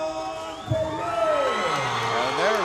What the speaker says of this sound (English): there's the announcement of Johnny Perez, and that has the crowd going